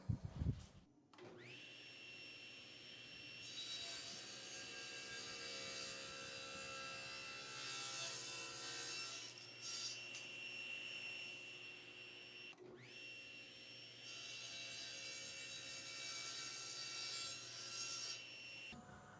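Hand saw making an angled 12-degree cut in wood for a box, steady rasping strokes that run continuously with brief pauses, moderately close and fairly quiet.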